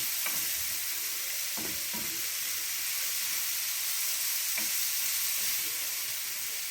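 Onions and mushrooms fry steadily in a pan as part of a creamy chicken dish, giving a continuous close sizzle with occasional soft stirring scrapes and no talking.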